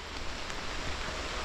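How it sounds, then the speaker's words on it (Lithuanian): Rain falls steadily during a bicycle trip along a rural woodland trail in Spain, a dense even patter filling the air with no talking. "Sudėtinga, nes lyja."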